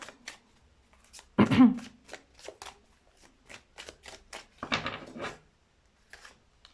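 Tarot cards are shuffled and handled in short bursts, with two louder riffling swishes standing out among scattered soft taps and slides of the deck, close up and without talking.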